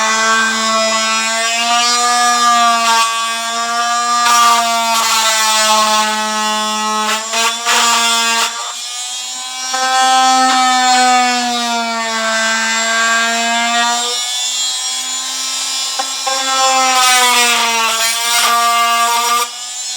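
Dremel rotary tool cutting a wooden model railway incline base, a steady high-pitched whine with strong harmonics that shifts pitch as it bites, running continuously and loud throughout.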